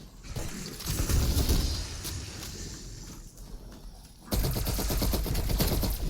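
Rapid bursts of automatic gunfire in the Cold War Zombies video game, continuous loud rattling shots with a short dip before a denser, sharper stretch of fire, no speech.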